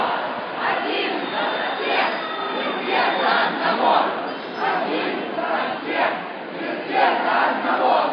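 Marchers at the Odessa Victory March chant together in a loud, rhythmic mass of voices, with swelling shouts and cheers rising and falling across the crowd.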